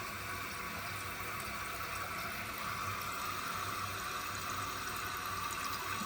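A toilet tank refills after a flush through a new Korky fill valve, giving a steady hissing rush of water running continuously and close by, with no voices.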